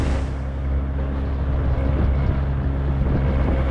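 Boat pushing through rough, choppy waves at sea with a heavy load aboard, giving a steady loud rumble of engine and water mixed with wind buffeting, continuous and close throughout.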